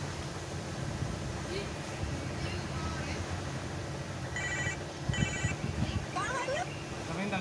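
A telephone rings in short repeated electronic bursts over a busy background of low rumble and murmuring voices, moderately loud against the surrounding noise.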